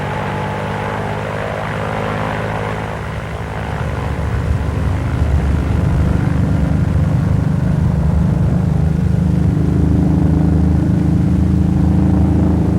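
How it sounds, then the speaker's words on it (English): A Vought F4U Corsair fighter's propeller engine drones steadily during takeoff, then swells louder and deeper as it revs toward full power, close and continuous with no voices. "Ease the throttle forward and approach full power in steps."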